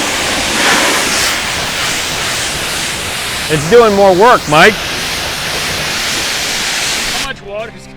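Two pressure washers rinsing a car blast a loud, steady hiss of spraying water that runs almost unbroken, with someone talking briefly midway before the spray cuts off near the end.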